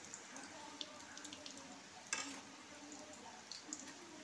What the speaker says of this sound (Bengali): এদিক ওদিক করে 8-10 মিনিট ধরে এটাকে আমি ভাজবো